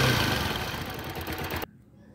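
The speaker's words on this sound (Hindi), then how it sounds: "और बाइक स्टार्ट है, भरपूर तरीके से स्टार्ट हो रही" A Bajaj Discover motorcycle engine idles steadily on a single spark plug with the other plug's connector pulled off, a close, even rhythmic putter that cuts out abruptly near the end.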